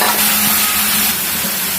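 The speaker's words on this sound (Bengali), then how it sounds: "এখন আমরা এই যে বরবটি ভাজিটা দিয়ে দিচ্ছি" Yardlong beans fry with onion in a pan, a steady, loud sizzle with faint stirring scrapes, close and continuous without talk.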